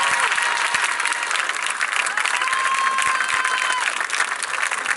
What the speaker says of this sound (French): Mesdames et messieurs, on peut l'applaudir une dernière fois, Chris Ramdon.